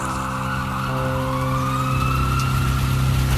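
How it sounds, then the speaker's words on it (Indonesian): An ambulance siren wails steadily on a quiet night street, its rising and falling tone loud and close over a low traffic rumble, with no voices. "Suara sirine ambulans terdengar sangat jelas di telingaku, memecah kesunyian jalan."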